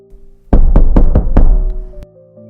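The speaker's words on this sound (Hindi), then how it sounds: "लेकिन तभी दरवाजे पर जोरदार दस्तक हुई।" Five loud, sharp knocks strike a door in quick succession, then a single later knock, each a hard percussive thud standing out alone against a low sustained tone.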